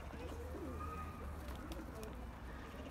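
Faint low cooing of a pigeon near a coop outdoors, soft and distant beneath background hum and quiet voices.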